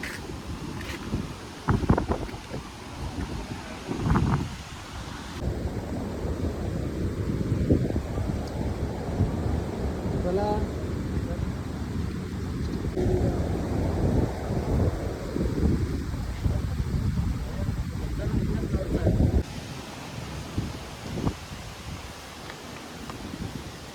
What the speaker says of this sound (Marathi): कोंडुरा समुद्र.